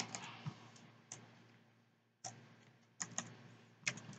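Keys tapped on a computer keyboard while a password is typed into a web portal login, giving soft clicks in small clusters separated by brief pauses, close and quiet with no talking.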